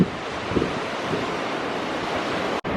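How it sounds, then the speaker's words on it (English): Ocean waves wash steadily onto the beach at an all-inclusive resort in Cancun, a continuous surf roar with wind buffeting the microphone and a brief dropout near the end. "You can probably hear the waves"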